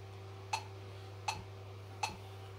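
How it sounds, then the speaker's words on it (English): A steady metronome at 80 beats per minute ticks three times at an even, moderate pace, each click crisp and brief over a low constant hum. "We're going to play this with a metronome against a metronome setting of"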